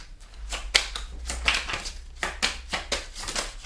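Tarot cards shuffled by hand, a run of crisp riffling flutters and slaps repeating every half second or so, close and fairly loud, some cards spilling out, with no talking.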